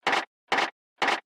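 Three evenly spaced, short swelling bursts of processed garage air compressor noise layered with a reversed clap sample, each a quick whooshing rise cut off sharply, with silence between.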